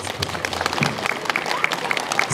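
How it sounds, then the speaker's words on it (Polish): Audience at a remembrance ceremony for the Cursed Soldiers in Jeżowe clapping for an honoured guest, brief scattered applause of moderate loudness with some voices nearby. "Brawa tutaj dla pana."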